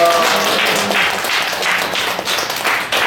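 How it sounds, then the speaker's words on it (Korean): A Catholic lay gathering packed into a square claps together after a prayer. The many hands make loud, close, continuous clapping with faint rhythmic surges for the full few seconds. "우리 모두 다 모인 의미에서 박수 한번 하겠습니다"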